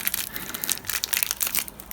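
A stretchy plastic bag from an Aoshima Daihatsu Copen Active Top model kit crinkles and crackles loudly up close as it is tugged and pulled open, a dense continuous rustle with no talk.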